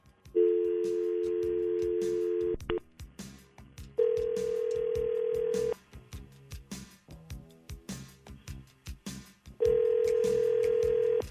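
Telephone ringback tone heard while placing an outgoing call, with three long steady rings separated by pauses, loud and clear with no voices over it.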